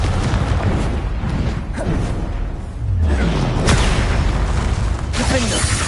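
Fire spell blasts from the game Hogwarts Legacy, a deep boom and whoosh under continuous dense game noise and effects, with spell impacts and rumbling layered throughout.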